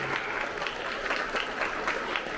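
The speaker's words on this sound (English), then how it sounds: "How about a round of applause for these guys?" Brief burst of steady applause from a school audience for eighth-grade honor roll students, a dense, even patter of clapping heard at moderate distance.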